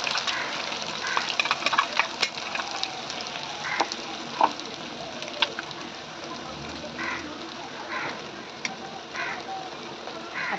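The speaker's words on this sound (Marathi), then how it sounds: "तर आपण सर्व वाटण आता तेलावर घालून घेऊया" Ground masala paste sizzles in hot oil for paneer vatana, a steady moderate frying hiss with scattered spatters and soft clinks, no talking.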